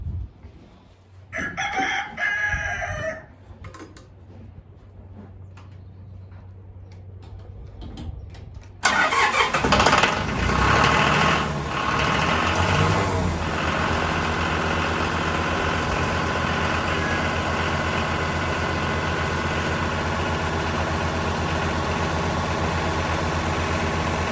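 Tractor engine cranking and catching after a quiet stretch with a rooster crowing nearby, then settling into a steady, loud, continuous idle that runs to the end.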